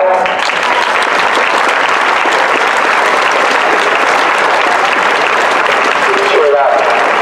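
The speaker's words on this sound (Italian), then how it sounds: "Ancora un applauso." Sustained audience applause from a gathering at a farewell ceremony for a community of nuns in Meda, loud and dense, steady throughout with a slight tail at the end.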